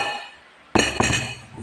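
Drinking glasses set out with water for a meal knock together in two bright, close clinks a quarter-second apart, after a quiet start, with a brief ringing tail.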